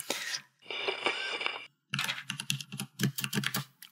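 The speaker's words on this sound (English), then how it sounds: "I have to finish typing with my keyboard loud. Clicky clack." Rapid typing on a loud, clicky computer keyboard, close up, with dense bursts of sharp key clicks broken by a few brief pauses.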